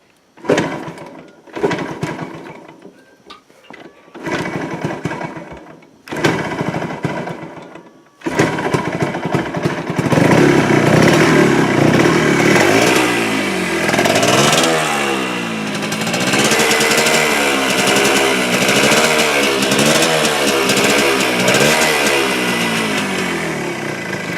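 A Yamaha RZX motorcycle with the choke on coughs through several short start attempts, then catches and runs on its own, idling roughly and revving up and down repeatedly, loud and close.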